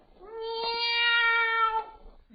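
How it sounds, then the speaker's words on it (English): A black cat gives one drawn-out, clear meow at close range, rising and then fading, in a Halloween setting with no voices around it. "Are the black cats out already?"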